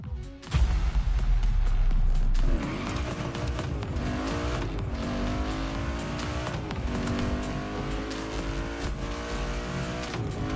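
Classic US muscle car racing in the video game The Crew Motorfest: a loud, sustained engine roar with rising and falling revs across gear changes, an early burst of heavy low rumble, and no speech.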